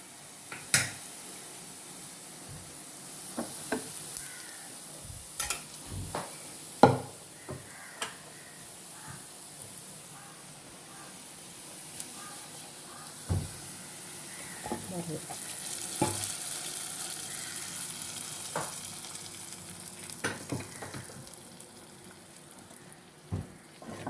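Tempering for a roasted-coconut mussel curry sizzles in hot oil, a steady crackle and fry with scattered sharp pops and stirring clatters, close by with no talk.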